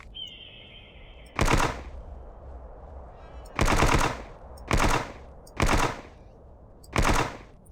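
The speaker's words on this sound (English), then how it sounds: "I thought I'd maybe get lucky with a few shots from the Uzi" Uzi submachine gun bursts in the game Jurassic Park Hunter, five short, loud rattling volleys spaced a second or two apart over quiet outdoor ambience, preceded by a brief whining tone.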